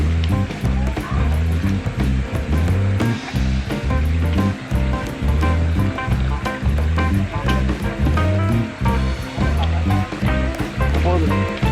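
River water rushes loudly during a river crossing on a hiking trail along the Nangka River, a dense continuous churning roar with rhythmic pulses of splashing, close and constant.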